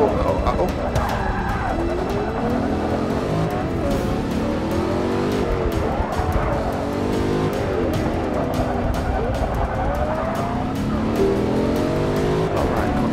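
Race car tires squeal repeatedly in Forza Motorsport 6: Apex on PC, with engines revving and sliding through corners, loud and continuous under a player's excited talk.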